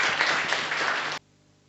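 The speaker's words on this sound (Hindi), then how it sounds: "ताली बजाओ अपने लिए।" A seated audience at an International Women's Day gathering of the Brahma Kumaris in Dhanera claps loudly and evenly for about a second, then the applause stops abruptly into near silence.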